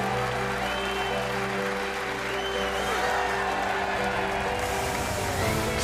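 A Crucible Theatre snooker crowd rises in a standing ovation after Ronnie O'Sullivan wins the World Championship final against John Higgins, giving steady, sustained applause with a broad crowd roar throughout.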